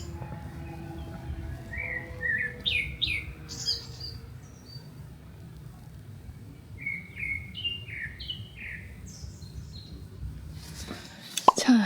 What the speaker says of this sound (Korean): 새소리 너무 좋아.